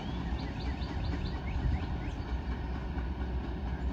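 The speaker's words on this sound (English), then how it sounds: "That was a small train, short train." Short intermodal freight train rolling past on an old B&O line, a steady continuous rumble of rail cars with faint wheel clatter, fairly loud and near throughout, no talking.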